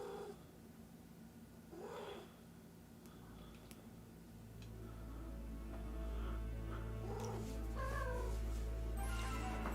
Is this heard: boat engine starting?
no